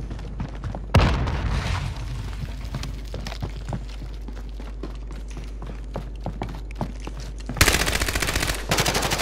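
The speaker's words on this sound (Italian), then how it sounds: "Granata." Sustained gunfire in the video game Call of Duty: Warzone, with a heavy grenade-like blast early and another loud burst near the end, amid rapid crackling shots and mechanical clatter under a constant low rumble.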